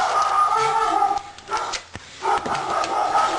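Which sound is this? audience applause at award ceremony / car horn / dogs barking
dogs barking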